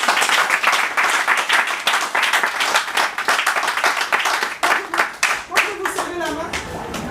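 An audience at a book presentation for "Kinshasa, ma ville, ma capitale" bursts into sustained, dense hand clapping lasting several seconds, with a few voices calling out over it toward the end.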